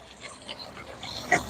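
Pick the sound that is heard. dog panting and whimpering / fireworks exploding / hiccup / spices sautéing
dog panting and whimpering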